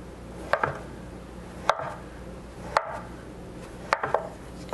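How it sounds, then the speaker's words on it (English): A knife cutting a block of tempeh into cubes on a board, four distinct sharp chops spaced about a second apart, close and crisp over a quiet background. "all we're gonna do is cut it into skewerable cubes"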